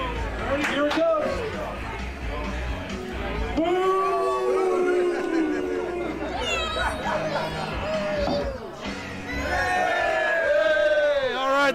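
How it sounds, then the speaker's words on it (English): A rowdy crowd at the Extra Pint Crokinole Club's U.S. Open finals at Indian Ladder Farms shouts, whoops and calls out in overlapping bursts, close and lively, with chatter running between the louder outcries. "It was a rowdy crowd."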